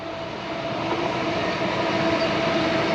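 A train rumbles past nearby beside a river, a steady loud roar of wheels and carriages holding constant without a horn, with no talking.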